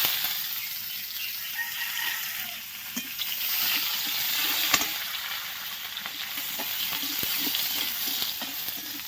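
Chopped onion sizzles steadily in hot oil with bay leaf and cumin, a loud, continuous frying hiss with occasional stirring clinks.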